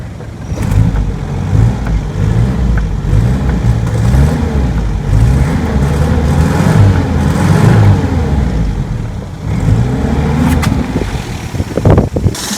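An old 1974 Toyota Corolla two-door barn find engine revs and roars steadily up close, its rough mid-range drone rising and falling with a few sharp throttle blips near the end.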